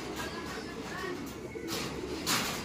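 Pigeons coo softly as the birds enter their loft, low repeated murmuring calls running throughout with a few brighter bursts, mixed with faint background noise.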